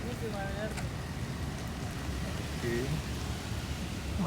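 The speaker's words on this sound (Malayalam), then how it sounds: "മഴ ചാറുണ്ടല്ലേ." Light drizzle falls as a steady, soft hiss throughout, with faint thin tonal sounds drifting through in the background.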